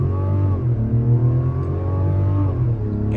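A 2024 Mazda CX-90 Preferred Plus pulling hard from a stop toward 60, loud engine drone climbing in pitch with brief dips at quick gear shifts, heard from inside the cabin.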